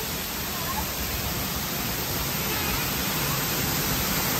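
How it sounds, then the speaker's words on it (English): A waterfall in Wales rushes in a loud, steady, broadband roar, heard up close from behind the falling water. "Okay, we're behind the waterfall."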